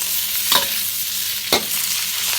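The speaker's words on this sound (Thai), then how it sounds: "คั่วให้มันเหลืองให้มันหอมกระทะ" Pork belly stir-fries in a hot wok over medium heat, a continuous sizzle broken by two brisk scraping stirs about a second apart.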